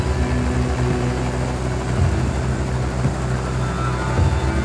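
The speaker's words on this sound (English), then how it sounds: "Chopper's heading deep into the heart of the Minnesota forest." A helicopter flying over the Minnesota forest gives a constant, loud, low engine and rotor drone that stays steady throughout, with no voices.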